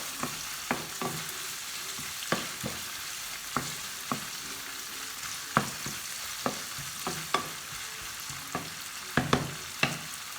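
Barbecue meat sizzles steadily on a grill, a continuous hiss punctuated by frequent sharp pops and crackles at an irregular rhythm, close and moderately loud with no voices.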